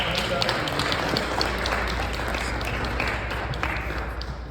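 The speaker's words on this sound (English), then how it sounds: "Clap it up, clap it up, clap it up." An audience at a gathering applauding in a dense, steady wash of clapping that slowly fades, with voices mixed in.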